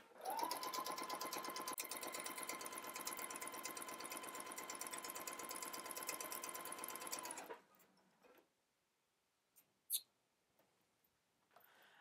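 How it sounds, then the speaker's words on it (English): Sewing machine running a steady basting stitch at 3/8 inch along a dress skirt seam, a continuous close whirring drone for about seven seconds before stopping, followed by a few faint clicks and a brief tap. "I'm just sewing this at 3/8. Using a basting stitch."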